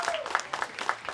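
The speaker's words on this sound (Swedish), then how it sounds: "en applåd på det, absolut" A small group of clappers gives a short, quick round of applause in a post-match gathering after an IFK Kristianstad game, with loose individual claps close by.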